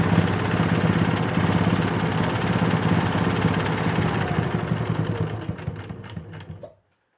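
A sewing machine runs steadily while stitching fabric for reusable face wipes, giving a continuous close mechanical whir that holds for several seconds and then stops.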